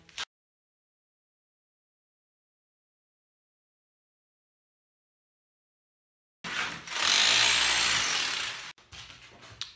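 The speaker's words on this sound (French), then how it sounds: "ça te fait un petit marteau-piqueur" During an apartment renovation, a rotary hammer drill used as a small jackhammer bursts in after a long silence, giving one loud, harsh, rattling hammering run of about two seconds before cutting off into quieter scraping.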